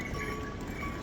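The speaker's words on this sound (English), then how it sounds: "we have the trail mostly to ourselves, except for the donkeys" Donkeys walk along a mountain trail in Nepal near Lukla, their hooves giving a faint, steady clip-clop beneath the open outdoor ambience.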